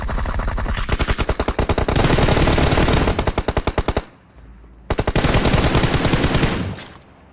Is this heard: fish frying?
no